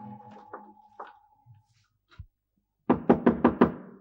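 A quick series of five loud, sharp knocks on a door, close and evenly spaced, follows a few fainter thumps and room noises.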